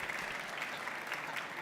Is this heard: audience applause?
yes